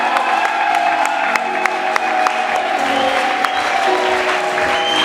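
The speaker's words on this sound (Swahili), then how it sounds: "Makofi na vigelegele." A church congress audience breaks into loud, dense clapping mixed with high ululating cheers and whoops, sustained and close throughout, with a few voices calling out in the crowd.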